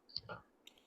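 A couple of quick, faint computer mouse clicks tap out in a quiet setting, short and close-sounding, with a brief voice sound between them.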